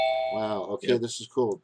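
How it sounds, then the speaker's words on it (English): A doorbell chime rings at a home, a clear tonal ding at the start, with people talking excitedly over and after it. "That's the doorbell."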